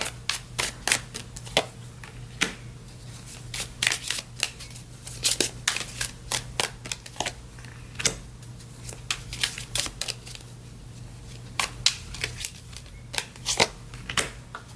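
Tarot cards are shuffled by hand in irregular bursts of crisp riffling and flicking slaps, close and clear over a faint steady hum, with no talking.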